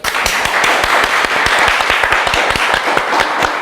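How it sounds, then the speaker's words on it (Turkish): Dense, steady applause from a studio audience on a Turkish talk show, many hands clapping continuously and loudly for the whole stretch, with a faint voice underneath. "Yok ben alkışlıyorum."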